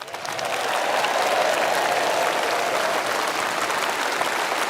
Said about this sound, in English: And so the audience rise to applaud Mr. Cameron's vision of a greater Britain.